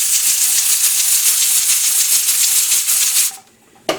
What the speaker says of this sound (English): sorry about the steam and the noise